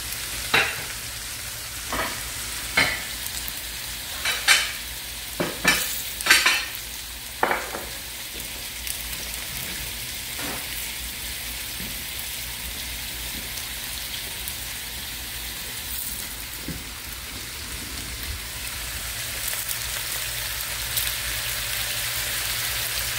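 Okra fries in a pan with a steady, close sizzle that runs throughout, with sharp pops and crackles clustered near the start before settling into an even hiss.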